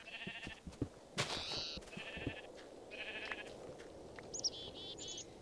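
Sheep in the video game Minecraft Tekkit give a string of short, nasal bleats, one after another over a low background hum, fairly close and clear.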